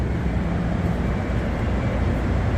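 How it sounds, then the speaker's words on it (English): A Metro North Railroad train approaches platform 6 at Hoboken, New Jersey, a loud, steady low rumble of rolling wheels and machinery filling the station without a break. "there's basically a Metro North Railroad train that's coming to platform 6."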